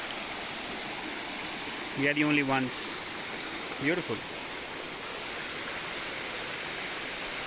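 A small waterfall on a forest trail near Manali makes a steady, broadband rushing hiss from close by, while someone speaks briefly over it.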